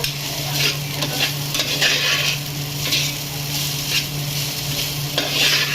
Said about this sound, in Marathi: कोथिंबीर पण व्यवस्थित अशी परतून घेऊ